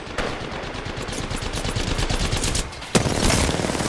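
Rapid automatic gunfire in Apex Legends during a ranked match, a dense rattling burst of shots up close, joined by a sharper, louder crack near the end, with no talking.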